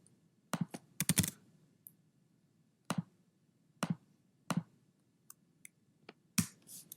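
A password tapped out on a computer keyboard: scattered, crisp keystrokes in uneven bursts, close and quiet, with near silence between presses.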